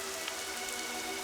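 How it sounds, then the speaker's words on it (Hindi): Heavy rain falling in a steady, even hiss that stays constant throughout, fairly faint, with no voices. "इतनी बारिश हो रही है"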